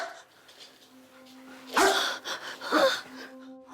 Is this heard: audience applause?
no